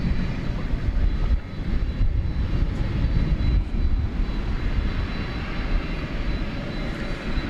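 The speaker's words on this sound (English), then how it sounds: "We've got another UPS 767 backing out now." A UPS Boeing 767 cargo jet pushes back at Dallas Fort Worth airport, its engines giving a loud, steady roar that holds close and even throughout.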